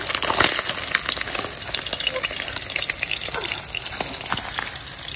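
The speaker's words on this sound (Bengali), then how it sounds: "মাছটা আমি কড়া করে ভেজে নিয়েছি" Pangas fish frying crisp in hot oil, a loud close sizzle full of sputtering pops and crackles, slightly bubbly and watery, steady throughout.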